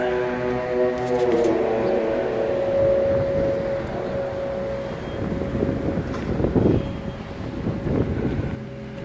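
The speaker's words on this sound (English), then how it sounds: "First time doing this and it had to be windy." Wind buffets the microphone with a steady low rumble, while a droning engine tone sounds in the background.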